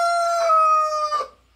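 An aging rooster with half its tail feathers gone gives a single loud, close crow that trails off abruptly after about a second.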